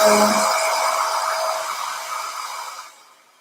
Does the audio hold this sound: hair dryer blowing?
yes